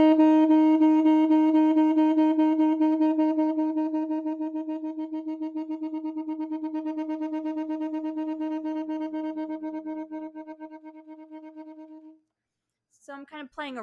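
A saxophone holds one long, steady note from a Rubank Elementary exercise (page 31), loud at first and then slightly softer, before it cuts off and a few brief, sharp sounds follow.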